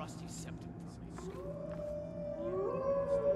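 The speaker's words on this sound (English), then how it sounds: "That's a nice wolf, right?" Wolf howl from the video game Skyrim, a rising tonal call that swells and holds near the end, heard at moderate distance over a dim ambient game background.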